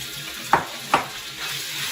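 Beef frying in a hot pan for lo mein, a steady sizzle with two sharp clatters of the meat or utensil hitting the pan, no talking.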